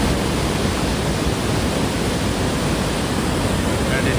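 Strong, steady rush of flowing water at Murudeshwara Shiva temple, swollen by rain, a loud continuous broadband roar filling the scene without a break.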